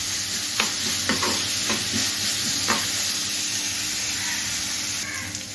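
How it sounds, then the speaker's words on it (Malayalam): Chopped onions sizzle steadily in a pan for a prawn biryani, with sharp, irregular scrapes of a spoon stirring through them, close and fairly loud and without talk. "ഇനി നന്നായിട്ടൊന്ന് മിക്സ് ചെയ്യണം ഉള്ളി നല്ലതുപോലെ അങ്ങ് വഴണ്ട് വരണം"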